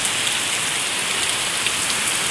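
Heavy rain pours down during a storm in Bihar, India, in a dense, steady hiss, loud and close, with no voices.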